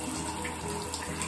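Water runs steadily from a tap during a child's hair wash, a constant close hiss and splash with no breaks.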